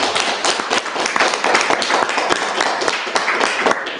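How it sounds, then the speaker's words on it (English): A conference audience at an AI policy keynote panel applauds the speakers, a lively round of many overlapping claps with sharp individual hits, sustained and fairly close. "can we give a round of applause for our speakers?"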